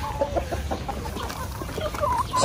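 Breeder chickens on a Philippine poultry farm cluck and squawk close by, with short repeated calls over a busy barnyard background.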